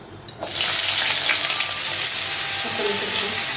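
Eggplant and potato drop into hot oil with five-spice seeds in a wok, setting off a sudden loud hiss that settles into a steady, close sizzle.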